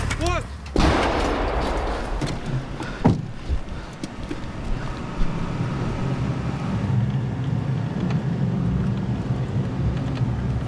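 Artillery firing two shells, heard as heavy, close booming blasts followed by rumbling and continuous wind noise across the microphone.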